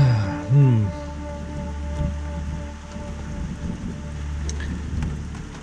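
Steady rain falls during a stop on the Limestone Creek Track in Victoria's High Country, a constant soft hiss with a low rumble underneath and a brief tonal hum near the start.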